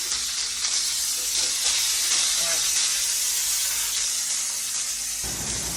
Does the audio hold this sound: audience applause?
no